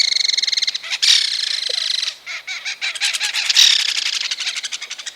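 A belted kingfisher gives its loud rattling chatter call, rapid harsh bursts repeated in several runs with short gaps, close and clear with no other sounds.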